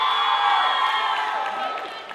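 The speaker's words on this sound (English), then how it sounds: "Any reason to cheer?" A high school audience cheers and whoops together, a dense, lively wash of young voices that holds steady for about two seconds before fading slightly.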